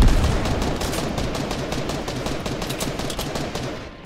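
Rapid automatic gunfire from a Fortnite match, a dense, continuous volley of shots rattling steadily for about four seconds with no talking.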